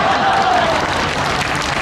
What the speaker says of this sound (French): Et nous pouvons les applaudir bien fort.